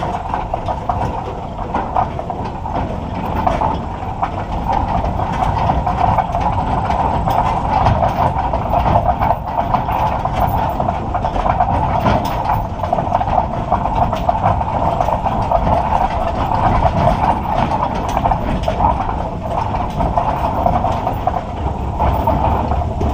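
Ford F250 Super Duty with a 6.7 diesel engine hauling equipment up a loose rocky hill in two-wheel drive, its wheels spinning out: a continuous rough diesel roar with rattling, grinding mechanical noise, sustained and loud throughout.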